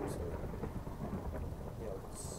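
Minecraft rain with rumbling thunder: a steady wash of falling rain under low, rolling thunder, with no one talking.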